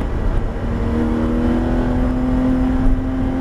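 A Porsche GT3 RS accelerates on the wet Abbeville race circuit, its engine building in a rising, droning tone that stays loud and close throughout, with no voices.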